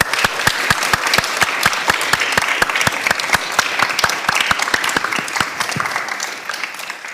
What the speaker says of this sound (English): join me in a big round of applause for this fascinating panel